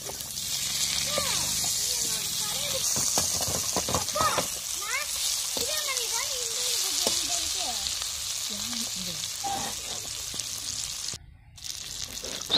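Red pomfret fish frying in a pan for a Tamil-style fish fry: steady, loud oil sizzle throughout, with a voice talking over it and a brief pause near the end.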